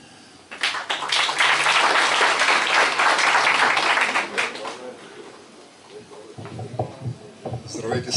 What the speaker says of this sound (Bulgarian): Предполагам, че с аплодисменти ще посрещнем изказването на председател на Общинския съвет на Демократи за силна България, доктор Милев